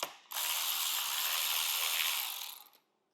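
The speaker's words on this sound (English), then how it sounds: "take our T30 Torx and remove the frame guard" A T30 Torx driver ratcheting as it removes the frame guard bolts on a 2023 KTM 450 SX-F supermoto build; a single steady, close ratcheting run lasting about two seconds, with no talk.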